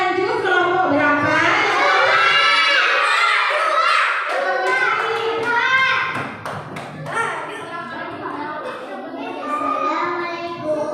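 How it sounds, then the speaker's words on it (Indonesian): A children's class in an Islamic lesson chants together in loud, steady unison, with a burst of sharp hand claps near the middle, applauding a group that has just finished presenting. "Tepuk tangan untuk kelompok 3"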